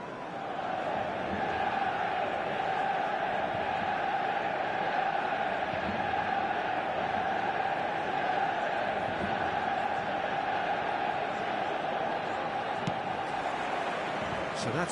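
Stadium crowd in the eFootball 2026 football video game, a steady, dense roar of cheering fans that holds at an even level for the whole stretch with no pauses.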